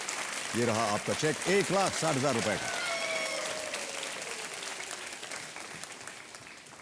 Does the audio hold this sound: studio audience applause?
yes